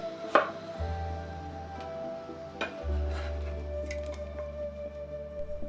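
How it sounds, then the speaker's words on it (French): A kitchen knife slicing a cucumber into thin slices on a board for Vietnamese banh goi filling, heard as a few scattered, crisp cuts over a steady low hum, with no talking. "On coupe aussi les 5 cm de concombre en 4 dans la longueur, puis en fines tranches"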